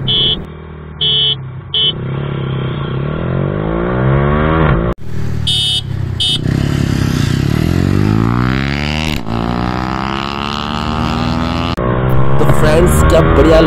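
Yamaha R15M and Jawa Perak motorcycles launch side by side in a drag race, engines revving hard through rising gear pulls with brief shifts between them, loud and close, while a rider talks over the noise.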